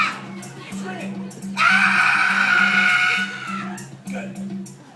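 Audience screaming at a Universal Studios foley show, a loud burst of crowd shrieks rising abruptly, holding for about two seconds and then tailing off, with a steady low hum and voices around it.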